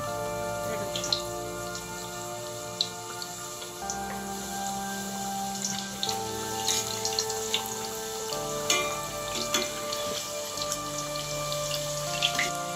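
Point Pedro vadai frying in hot oil, a continuous close crackling sizzle with small popping bubbles and occasional stirring clicks, no voices.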